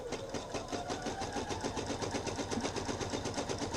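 Domestic sewing machine stitching slowly on a fresh bobbin thread while sewing pants, giving a steady, close, rapid mechanical whirring and clatter throughout.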